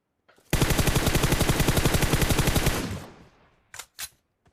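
Automatic gunfire in a battle royale video game: one sustained burst of rapid, evenly spaced shots lasting about two seconds, close and loud, fading out, followed by two short separate bangs.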